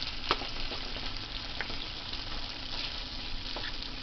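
Potatoes frying in a pan: a continuous crackling sizzle with occasional louder pops and light scraping, no voices.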